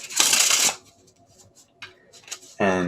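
A spectator riffle-shuffles a deck of playing cards during a card trick, one loud burst of riffling up close, then faint card handling before a voice cuts in.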